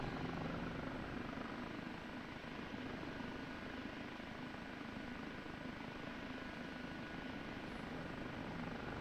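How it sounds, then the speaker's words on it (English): An OH-58D Kiowa Warrior helicopter flies in the DCS combat flight simulator with a steady, unbroken rotor and engine drone at constant loudness. "Helicopter's got a little bit of weight because we've still got full"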